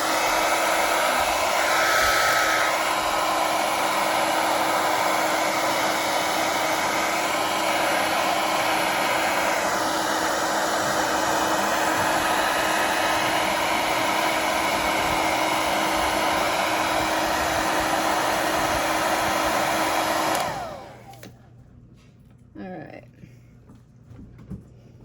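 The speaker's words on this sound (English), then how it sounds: "Again, I'm gonna blast it with the blow dryer." A blow dryer roars steadily at close range for about twenty seconds, blowing on conductive paint, then cuts off, leaving quiet room noise with faint clicks.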